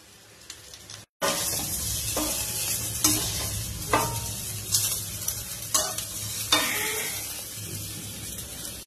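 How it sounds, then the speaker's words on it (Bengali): Sweet raw Himsagar mango pickle with sugar sizzles in a pan over very low gas heat while a spoon stirs it repeatedly, with soft scraping knocks against the pan and no talking. "এবার আস্তে আস্তে অনেক সময় ধরে নাড়তেই হবে"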